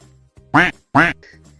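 Two loud, close duck quacks sound in quick succession as part of a children's play, with quiet background hum between them.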